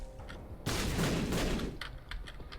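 Airstrike explosions in The Binding of Isaac Afterbirth+, a sudden loud burst of rapid overlapping blasts that rumbles for about a second before tapering into scattered lighter game sounds.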